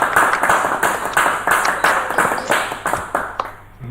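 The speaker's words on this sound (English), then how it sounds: "I think we should first clap for him" Applause for a graduating student receiving an award at an online valedictory function, a run of bursts of clapping from a small group, moderately loud and fading out at the end.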